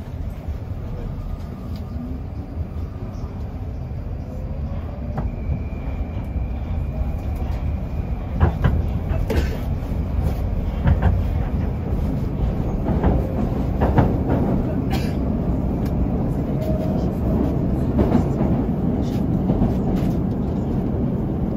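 Moscow metro subway train running through the underground, a steady loud rumble with rhythmic clicks and rail squeals throughout, no talk over it.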